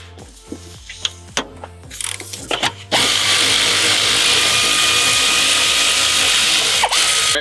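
A power tool runs to unbolt a seatbelt buckle bolt inside a Toyota Highlander. A few close clicks and knocks come first, then a loud continuous drill-like whir holds steadily to the end.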